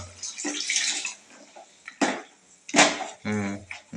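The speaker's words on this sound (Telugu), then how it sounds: "మనం వచ్చేసి వాటర్ అయితే పోసుకోవాలి అది కూడా ఎంత పట్టిద్దో అంత వేసుకోవాలి" Water splashes into a cooking pot in short bursts while a village-style country chicken curry is being made, with a few brief pauses between pours and a voice heard faintly near the end.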